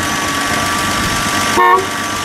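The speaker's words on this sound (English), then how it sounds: "Does the horn work? Go ahead, give it a beat." A single short horn honk from a 1972 Plymouth Valiant Scamp sounds near and clear over a steady engine idle.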